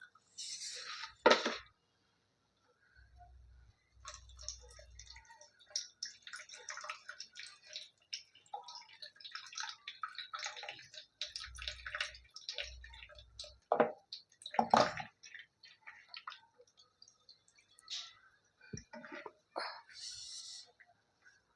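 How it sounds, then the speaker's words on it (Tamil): Soaked pearl millet being strained by hand for kambu koozh: faint, intermittent drips, squishes and splashes of water with brief pauses, close and quiet, alone without talk. "இப்போ நம்ம இதே அப்படியே வடிகட்டி எடுத்துடலாம்"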